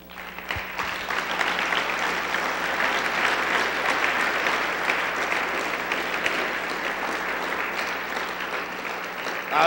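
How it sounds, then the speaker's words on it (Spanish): A church congregation applauds together during a Spanish-language sermon, a steady, dense wash of clapping that holds for nearly ten seconds with no talking over it. "Démosle un aplauso al Señor"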